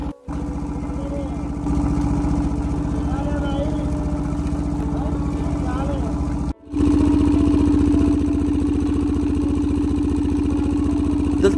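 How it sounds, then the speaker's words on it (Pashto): A sugarcane crushing machine runs at a jaggery workshop in Nangarhar with a steady droning motor hum, briefly cutting out before resuming; someone talks over it. "دلته ګنۍ له ماشین څخه وځي"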